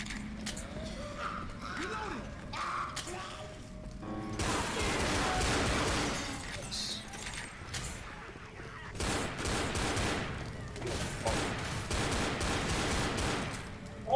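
Pistol shots fired in the zombie shooter Left 4 Dead, sounding as clusters of sharp, rapid cracks in two long bursts with mechanical clatter between, loud and close over game noise.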